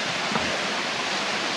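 A waterfall roars as a steady, broadband rush of falling water heard from a vantage point on a foggy mountain trail, continuous and fairly close with no voices.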